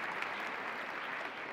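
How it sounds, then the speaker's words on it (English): Steady, faint applause from a lecture audience, a dense even patter of clapping that holds for the whole moment without pauses or voices. "Yeah, that deserves applause."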